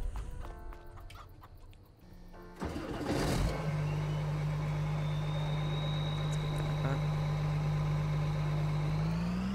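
In the farming game Farming Simulator 22, a tractor engine starts with a loud crank and settles into a steady, droning idle that fills the rest of the clip, close and continuous.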